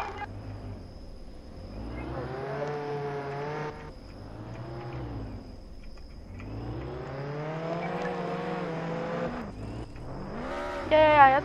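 A Ford Explorer driving in the Roblox game Jailbreak, its engine note rising and falling in long revving sweeps, with a brief burst near the end and speech faintly present.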